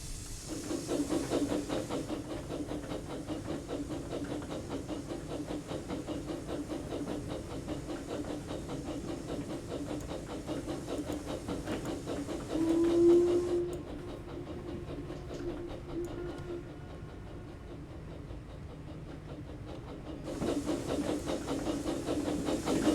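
A miniature steam locomotive engine gives off a steady hiss of escaping steam, continuous and fairly faint, briefly swelling and then settling into a quieter mechanical rumble.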